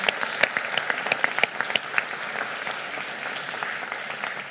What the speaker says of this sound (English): So let's give them another round of applause for.